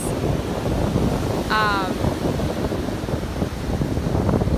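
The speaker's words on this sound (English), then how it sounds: "That is some crazy, crazy waves." Rough surf and strong gusting wind on a Sanibel Island Gulf Coast beach, a steady broadband roar with wind buffeting the microphone throughout and a brief chirping bird call partway through.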